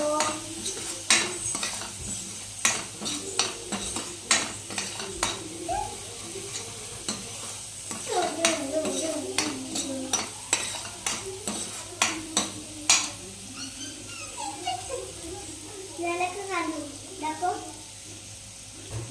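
Masala for a black pea usal fries in a pan while a spoon stirs it, with repeated metallic scrapes and clinks over a low sizzle, and a voice talks at times.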